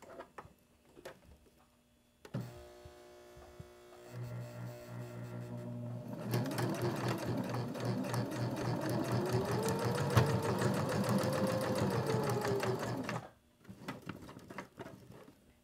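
A sewing machine stitches a straight stitch on a beginner soap holder, starting with slow clicks, then whirring up into a long, steady, close run that stops abruptly, leaving light handling noise.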